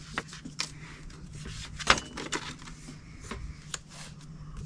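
Scissors fussy cutting around a paper ghost, a close series of short crisp snips and rustles at an irregular pace, with small clicks of the blades and paper handling between cuts.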